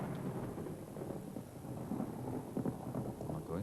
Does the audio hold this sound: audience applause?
no